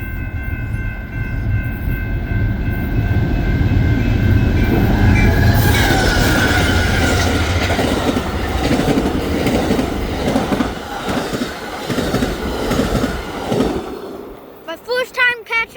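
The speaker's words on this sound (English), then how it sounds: "And there's a freight train down there." A BNSF freight train rolls past Hinsdale station, a loud, sustained rumble with squealing wheels and rhythmic clickety-clack that carries on for several seconds before thinning out toward the end.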